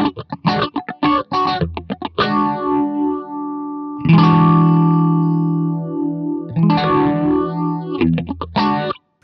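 Electric guitar through a BOSS PH-3 phaser pedal, with bursts of strummed chords and held ringing notes that swirl and sweep, slightly distorted with some echo, played alone and fairly loud.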